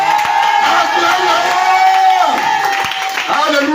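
A church congregation at a prayer and fasting service cheers and acclaims together, a loud, sustained crowd roar with whoops and shouts that stays dense throughout, joined by a voice speaking over it.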